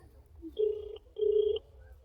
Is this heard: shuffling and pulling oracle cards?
no